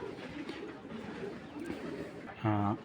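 A racing pigeon gives a short, loud coo near the end, close by, after a stretch of low background murmur and room noise.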